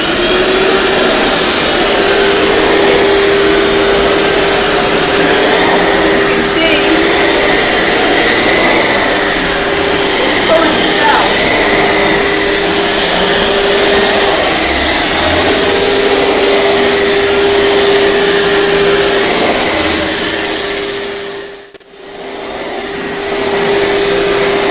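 A ProTeam backpack vacuum cleaner runs on carpet with a loud, steady motor whine and airflow roar close by, briefly dropping out near the end before resuming.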